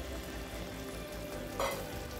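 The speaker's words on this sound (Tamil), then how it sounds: "உருளைக்கிழங்கு வெந்துருச்சு இப்போ இது கூடவே கொஞ்சம் கேப்சிகம் சேர்த்துக்கலாம்" Capsicum frying in a pan with cooked potatoes for a potato kurma, a soft, steady sizzle with a brief stirring flare near the end, faint and continuous with no talking.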